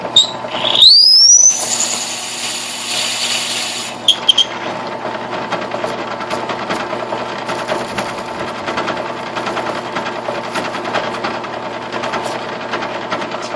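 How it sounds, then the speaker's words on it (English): A drill press hums steadily at its lowest speed after a brief high whine and squeal at the start, running on without pause, while making tobacco pipes. "I do have my drill press set on the lowest speed that I have."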